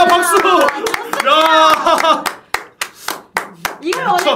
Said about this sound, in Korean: 야 박수!